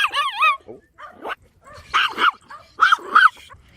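A chihuahua yaps in short high-pitched bursts, several sharp yips and whiny barks in quick clusters separated by brief pauses, close and clear.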